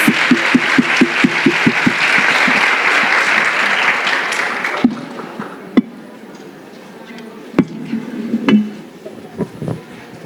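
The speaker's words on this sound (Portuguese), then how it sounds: "Gente, uma salva de palmas para os nossos cases" An audience at a parenting education congress breaks into applause, with a few rhythmic unison claps before the clapping swells into dense ovation and then fades to scattered claps and murmuring voices.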